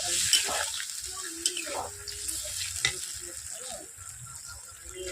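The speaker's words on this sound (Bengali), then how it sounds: "এরপর পনিরের মধ্যে আমি জল ঢেলে দিচ্ছি।" Water is poured into paneer frying in a pan, raising a soft, crackling sizzle with scattered pops and stirring clicks over about five seconds, fairly quiet, with no speech.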